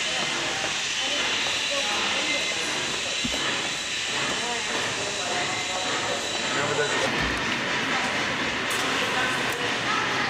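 Old steam locomotives from around 1829 to 1832 give off a steady loud hiss with a rushing broadband texture and a few thumps, while people talk nearby.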